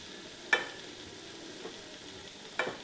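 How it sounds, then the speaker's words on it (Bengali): Lentil dumplings are stirred into boiled cauliflower stems in a quiet pot: two distinct spoon clanks and scrapes, one early and one near the end, over a faint low simmer. "এবারে বড়িগুলো মিশিয়ে দিলাম।"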